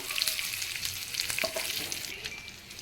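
Nuts fry in a pan for vermicelli payasam, crackling and sizzling steadily and close, with occasional light stirring scrapes and pops, the frying easing a little toward the end.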